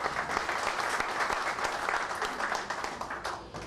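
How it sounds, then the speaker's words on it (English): A roomful of listeners breaks into applause, a busy patter of many hands clapping at moderate level that tapers off slightly toward the end. "it deserves a hand of applause"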